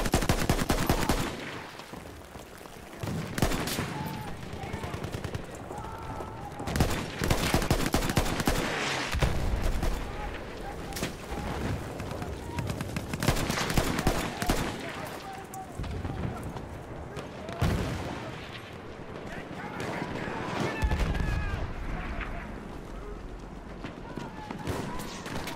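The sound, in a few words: rocket gun and gunfire in a video game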